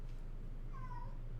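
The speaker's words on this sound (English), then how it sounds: "Meow." A single drawn-out cat meow rises and falls, fairly faint and sounding alone over a steady low background hum.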